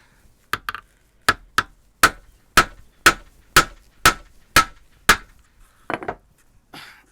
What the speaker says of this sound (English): our hammer and a nail